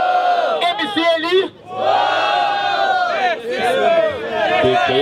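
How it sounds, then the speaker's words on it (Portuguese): A crowd roars and shouts at a freestyle rap battle in Rio de Janeiro, loud dense cheering that dips briefly twice before surging again, with voices yelling over one another. "Barulho, quem gostou da rima do freestyle do MC Doug?"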